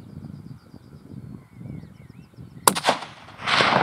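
A single loud, close rifle gunshot during a pig hunt cracks out after a quiet stretch of outdoor ambience with faint bird calls, followed by a sharp echoing tail and a burst of noise.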